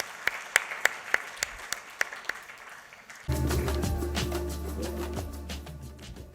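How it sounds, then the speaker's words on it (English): At a press meet, a few distinct, spaced hand claps are heard at first, moderately near. Then a sudden, louder wash of sound takes over with a tonal, music-like hum underneath, and no clear speech. "We want to applaud you. We want to applaud your family."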